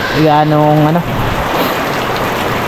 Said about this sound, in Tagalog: Ramdam mo na yung mga idol, yung ulan, yung hangin.